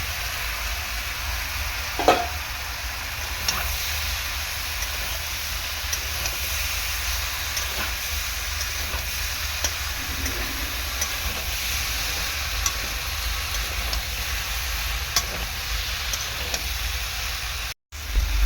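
Fried potatoes and prawns stirred in a spiced pan for an okra and prawn curry, a steady soft sizzle with occasional faint scrapes of the spoon, cutting to silence briefly near the end.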